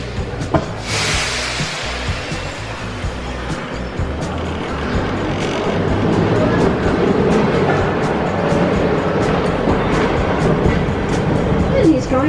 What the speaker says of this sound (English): you're going to be travelling in the Sydney Tram.